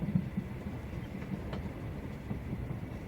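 A train travels along a line on the way to a port, a low, steady rumble with faint rhythmic clatter of rail cars throughout, fairly quiet and continuous with no voices.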